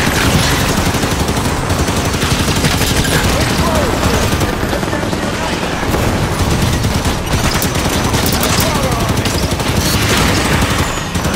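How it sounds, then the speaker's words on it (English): A Scattershot weapon fires in Halo 5 Firefight amid dense, continuous loud gunfire and blasts, with a voice occasionally audible in the chaotic mix. "Switching to a scatter shot."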